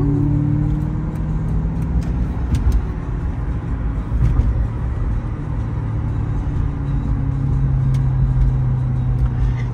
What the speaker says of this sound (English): Sophie's over here going through the gears in traffic in Naples,